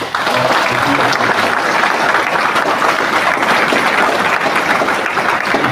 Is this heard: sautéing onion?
no